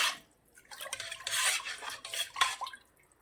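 A spoon stirs spices into a ground rice snack mixture in a metal bowl, giving close scraping and clinking strokes in uneven bursts, with no voices.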